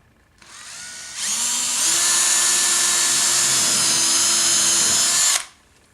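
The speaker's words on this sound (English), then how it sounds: "Next thing you want to do is you want to grab your drill with your drill bits." A power drill with a 1/8-inch bit pre-drills a hole for a surface-mount lock. The motor whines up, then holds a loud, steady high-pitched drone for about four seconds before stopping, with no talk.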